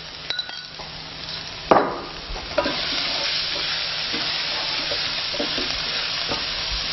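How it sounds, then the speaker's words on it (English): Garlic and crushed green chili frying in a pan, a steady close sizzle with a loud clack of a utensil against the pan early on and a few lighter metallic taps. "And now let's add in garlic and crushed green chili."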